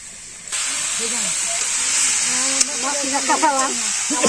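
Vegetables fry in a pan with a steady hissing sizzle, and a person talks over it through most of the clip.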